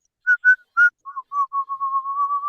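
A person whistles an imitation of a blackbird call: three short separate notes followed by a longer run of lower, rapidly repeated warbling notes, clear and close with no background noise.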